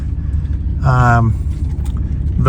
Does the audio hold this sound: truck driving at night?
yes